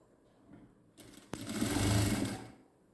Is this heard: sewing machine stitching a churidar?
yes